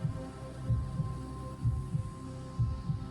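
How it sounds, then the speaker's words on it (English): A heartbeat effect in a spooky story thuds low and heavy in paired beats, lub-dub, repeating about once a second over a dull hum. "her heart pounding in her chest"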